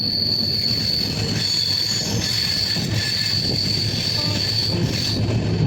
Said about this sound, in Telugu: సో మన ట్రైన్ అయితే స్పీడ్ వస్తుంది.